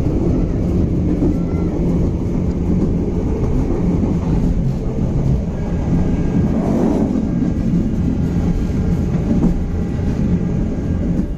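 An oncoming Batu Raden Express passenger train passes, heard from aboard a moving train, with a continuous loud rolling rumble and rail roar that swells slightly midway, with no talk.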